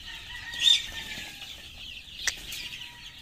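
Chickens squabble and fight among themselves in a coop of chicks, with a sharp squawking burst early on and a quick flurry of flapping wings later, close by over quiet background noise.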